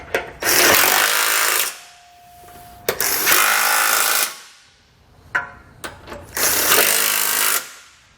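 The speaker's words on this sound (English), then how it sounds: "we can take that same 15mm socket and we're going to tighten up all the nuts" Impact gun with a 15mm socket tightening the nuts of a hidden trailer hitch receiver, three loud close rattling bursts of about a second each with short pauses between.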